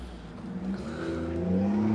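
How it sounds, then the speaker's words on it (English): A loud BMW car engine at a motorsport open house, a steady deep rumble that swells slightly louder toward the end, heard alone without talk. "that's a very loud BMW over there."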